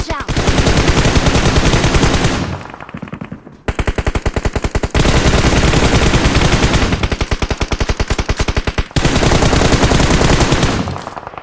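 Sustained automatic gunfire in PUBG Mobile during a semifinal match, long loud rapid bursts of machine-gun fire broken by brief pauses, close and dominant with no talk over it.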